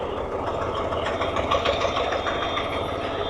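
A motorcycle rolls along at low speed, picked up by a Maono AU-400 clip mic, giving a steady engine drone with a soft pulsing chug and some wind hiss, and no talking.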